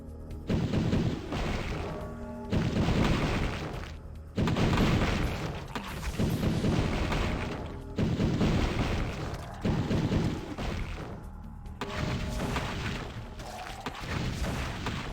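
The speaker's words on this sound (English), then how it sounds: "Where are my fireballs going?" Fireball spells cast in OmniMori, a fantasy video game: a run of loud, booming whooshes and blasts, about five heavy bursts a couple of seconds apart, each swelling and trailing off, close and dominant with no talk.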